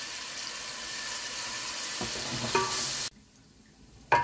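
Garlic sizzling in hot oil in a pan, a loud steady frying hiss with a few stirring knocks, then a sudden drop to quiet before a brief burst of sizzle returns at the end.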